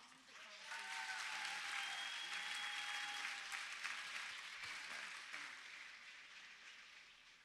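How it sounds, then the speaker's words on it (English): A graduation-evening audience breaks into warm applause for an honored speaker, sustained dense clapping that builds quickly and then gradually tapers off, with faint cheers mixed in. "So let's give a warm round of applause for our trailblazer, a role model, a hero, Ann Fong."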